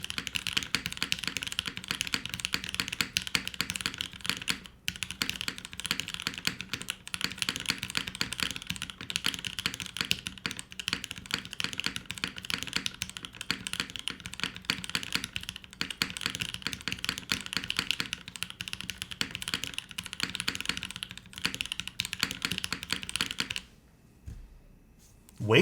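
Continuous typing on an Ayleen TKL mechanical keyboard in a top-mount configuration, a dense steady clatter of keystrokes close to the mic for about twenty-three seconds, then a brief pause with a few scattered clicks at the end.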